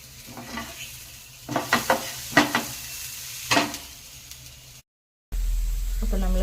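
Black pepper, fenugreek and coriander seeds dry-roasting in a pan for sambar, stirred with a run of sharp scraping and rattling strokes over a soft sizzle. A brief gap of silence follows, then a louder steady noise.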